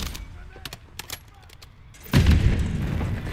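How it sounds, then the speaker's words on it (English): Precision airstrike explosions in the Modern Warfare III video game, a sudden heavy roaring blast that sustains after scattered sharp gunfire cracks, loud and close, with game voice radio chatter in the mix. "Precision airstrike inbound."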